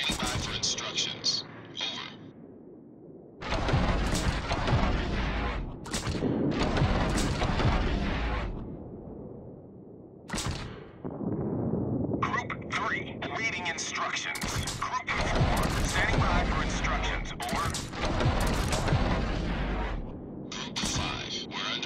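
Naval gunfire and explosions from the World of Warships game, with a Japanese Ryujo carrier in battle: dense, continuous booming salvos and cracking blasts rolling almost without pause, heavy and loud, with brief lulls between barrages.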